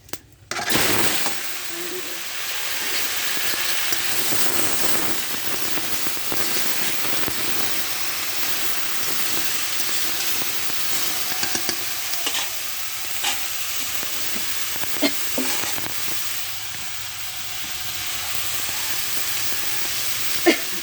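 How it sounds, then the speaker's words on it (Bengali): Three dried red chillies fry in a little oil in a kadai for mango pickle, giving a steady sizzling hiss with occasional spatters and light scrapes throughout. "আমি কড়াই প্রথমে তেল দিছি অল্প তেল দিছি তাতে তিনটা শুকনো মরি দিয়েছি"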